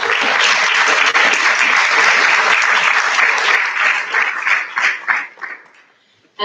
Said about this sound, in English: So we can all clap.